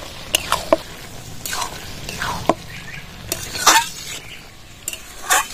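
Bottle gourd and shrimp curry with ground spice added is stirred in a pan, the spoon scraping and clinking against the metal in scattered strokes over a soft background hiss.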